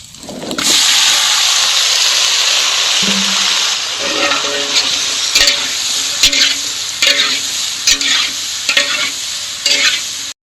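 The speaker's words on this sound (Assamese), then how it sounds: "পাৰা মাংসটো আৰু চয়াবিন দিছিলোঁ, সেইটো ভালকৈ ভাজা হৈ গ'ল" Pigeon meat and soybeans fry in a pan with vegetables, giving a loud, steady sizzle with intermittent scraping and stirring clatter from a utensil.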